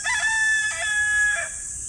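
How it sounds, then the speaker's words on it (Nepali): A rooster in the Japanese countryside gives one long, loud, drawn-out crow nearby. The crow breaks briefly partway through and fades at the end, with no voices over it. "जापानमा भाले बासेको पनि पहिलोचोटि थाहा पाइयो"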